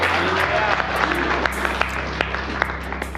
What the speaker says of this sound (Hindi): आज वो चर्च में बैठी है, क्या ताली बजा सकते हो उसके लिए?